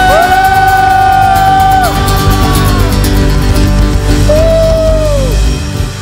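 A loud crowd at a church worship night cheers and applauds continuously, with high whoops and yells rising above the steady roar.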